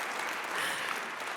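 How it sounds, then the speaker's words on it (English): Audience applause at a benefit event, a dense burst of many hands clapping at once, loud and sustained throughout the short moment. "yes, clap."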